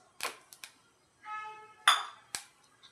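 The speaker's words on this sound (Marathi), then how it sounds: "इकडे आहे ना आपण कढई ठेवली" A metal kadhai (wok) is set down on a stove in a home kitchen: a few short, bright metallic clinks and knocks, close and fairly loud, with a brief ringing tone between them.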